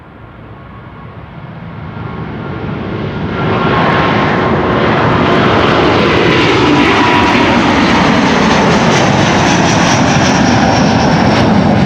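A Delta Airlines jet, six years old, takes off from Schiphol's Kaagbaan runway 24, its engine roar swelling from a moderate rumble to a loud, sustained broadband blast with a rising whine, no voices.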